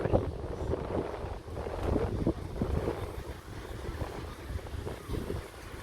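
Gusty seaside wind buffets the microphone at Oceanica resort in Panglao, Bohol, with uneven roaring bursts and low thumps rising and falling over several seconds.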